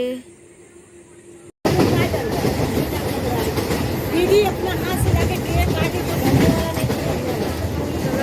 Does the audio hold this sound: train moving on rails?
yes